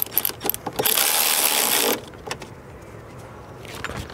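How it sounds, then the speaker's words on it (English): Ratchet wrench tightening car battery post terminals on a 2004-2013 Mazda 3, a quick burst of clicking followed by a sustained mechanical whir, then scattered clinks and taps of the tool at close range. "Now we'll put our battery posts back on, tighten them up."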